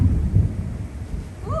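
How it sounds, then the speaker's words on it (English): A low, deep rumble of thunder rolls in the distance, swelling and fading under faint background noise. "You can hear the thunder rolling in the background."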